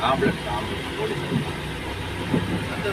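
A steady hum of road traffic and idling engines in the rain at the Kumily border fills the background, with a person talking over it.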